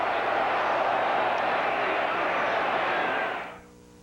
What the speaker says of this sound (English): You'll hear this crowd yell.